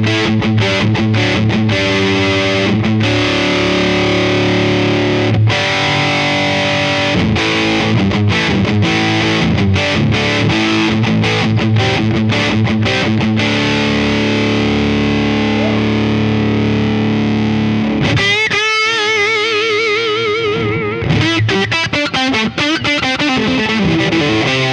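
Electric guitar through a ToadWorks John Bull British Overdrive pedal plays continuous, loud chordal riffs with rhythmic palm-muted stabs, then a burst of wobbling, swirling effect near the end.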